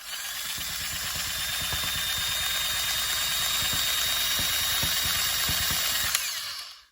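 A handheld rug tufting gun punches yarn into stretched fabric with a rapid, motor-driven rattle, steady and close for several seconds before cutting off, with no talk.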